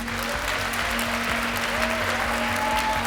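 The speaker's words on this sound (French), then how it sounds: "on peut vous applaudir." An audience at a French event about banning social media for under-15s applauds steadily for a few seconds, a dense, even patter of clapping over a faint low hum.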